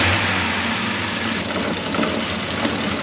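A Ford F150 with a 5.4 V8 runs rough just after starting, a loud, continuous engine rumble heard up close with no talk over it.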